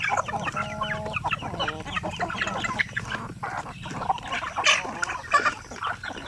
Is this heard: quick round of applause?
no